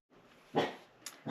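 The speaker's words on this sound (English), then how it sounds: "that's my little dog barking" A small female dog barks once sharply, followed by a short yip and the start of another bark, fairly close indoors with no voices over it.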